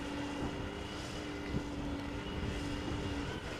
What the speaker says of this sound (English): It is a Dreamliner 787-10 Dreamliner, destination LAX, Los Angeles.